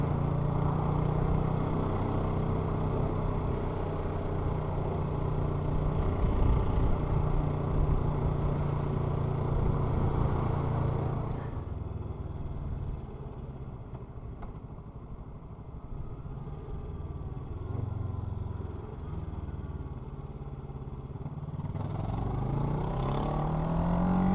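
A steady motorcycle engine drone while riding in Scotland, loud and continuous, dipping in level midway before rising again.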